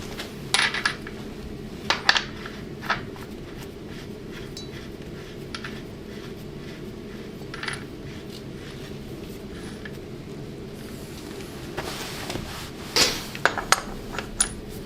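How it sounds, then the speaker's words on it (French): Metal hub, washer and nut refitted onto the rear axle of a single-seater race car, with sparse light metallic clinks and taps scattered over a low background hum, no talking. "Maintenant on remet le moyeu, la rondelle et l'écrou."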